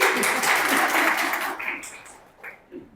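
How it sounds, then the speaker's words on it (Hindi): A room claps for a student who topped her 10th class at a school event, a burst of brisk applause that quickly thins out and fades, with brief voices near the end. "तालियां"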